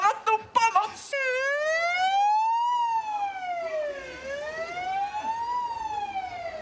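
Ambulance siren staged as part of a theater skit, a loud wailing tone sweeping slowly up and down and continuing steadily after a few brief sharp sounds at the start.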